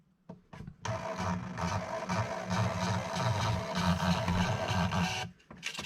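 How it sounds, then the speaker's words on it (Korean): The built-in printer of a THL-500 hardness tester chatters steadily for about five seconds, a buzzing mechanical whir with rapid rhythmic ticking, close and fairly loud. "이렇게 측정을 하고 프린트 버튼을 누르게 되면은"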